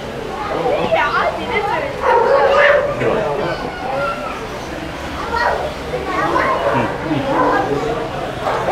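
Several dogs bark and yip in the dog area of a pet shop, loud and close, with repeated barks and whimpers over a busy background of people chattering and children's voices.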